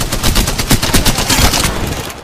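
Loud, rapid automatic gunfire in the shooter game Apex Legends, dense bursts of shots cracking one after another for the whole moment with barely a pause.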